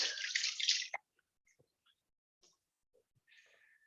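Pure water poured to rinse salt water off bare feet during a meditation foot-soak, heard as a close, steady splashing stream for about a second, then a few soft scattered drips and a brief trickle in near silence.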